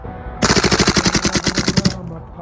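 A Tokyo Marui MWS M4A1 CQBR airsoft gun empties a magazine of BBs in one rapid full-auto burst of about fifteen sharp, evenly spaced cracks lasting roughly a second and a half, loud and close.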